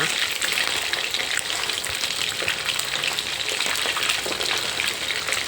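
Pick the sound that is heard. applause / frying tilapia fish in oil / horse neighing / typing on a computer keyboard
frying tilapia fish in oil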